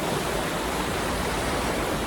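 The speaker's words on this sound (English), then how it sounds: "So I'm here, the waterfall behind me." Heavy waterfall roars steadily behind a small cavern on a hike, a dense, close, unbroken rush of falling water with no voices.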